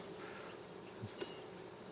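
Honey bees hum steadily around an open hive during queen marking in spring, a dense, even insect drone close by with a couple of brief soft knocks and no voices.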